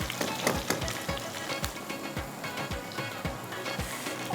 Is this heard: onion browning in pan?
yes